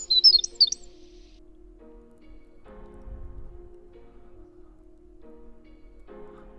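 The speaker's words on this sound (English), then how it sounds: "So here we have a wren singing its heart out." A brief burst of high, rapid wren trills at the start, then mostly quiet with a low hum and faint rustling, at a nature reserve.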